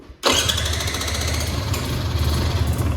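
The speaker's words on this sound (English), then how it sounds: "So now the bike is ready for the first start." A 2025 Beta Xtrainer 300 two-stroke motorcycle engine starting for the first time: a short quiet moment, then the engine catches abruptly and runs loud and steady with a rapid, pulsing mechanical throb.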